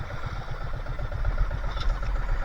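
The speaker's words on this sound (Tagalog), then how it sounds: "Hindi kami makapatay ng makina at malakas ang dagat." A boat engine idles nearby on a rough sea at night with a low, throbbing chug, steady and rhythmic, with no talking.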